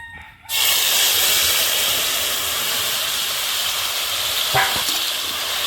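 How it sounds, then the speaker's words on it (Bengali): Spice water splashes into hot mustard oil with whole cumin, bursting into a sudden loud, close sizzle after a brief quiet moment, then holding a strong steady hiss with one short spatter near the end. "আমি অল্প পরিমাণে মশলার জল দিয়ে দিচ্ছিলাম"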